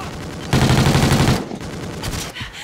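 Rapid bursts of automatic gunfire in a Call of Duty: Ghosts multiplayer match, a loud dense volley followed by scattered shots and game sounds.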